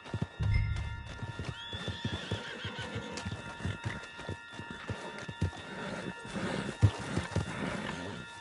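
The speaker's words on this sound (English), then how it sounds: "back of John's horse, and let's get out of here." Hooves clip-clop at a quick gallop in Red Dead Redemption 2, with a horse neighing and snorting over ambient outdoor game sounds, fairly quiet and steady throughout.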